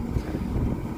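Strong wind buffets the microphone outdoors during welding work on an old Superior fan hood, a dense, steady rumbling roar with no speech.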